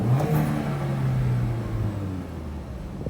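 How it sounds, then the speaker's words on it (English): An Audi TT with 130,000 miles, bought cheap for parts, is given a single rev: the engine rises into a loud, close roar, then settles back toward a rumbling idle, with no voices. "If I just give it a rev."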